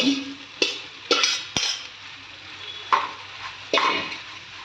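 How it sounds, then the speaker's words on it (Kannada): Cooked, strained pasta is tipped into red sauce in a pan and stirred, giving a run of scraping utensil strokes and soft clatters, each followed by a brief wet shuffle, close and unaccompanied by speech. "ಸೊ ಇದಕ್ಕೆ ಈ ಬೇಯಿಸ್ಕೊಂಡು ಸ್ಟ್ರೈನ್ ಮಾಡ್ಕೊಂಡಿರೋ ಪಾಸ್ತಾನ ಹಾಕೋಣ"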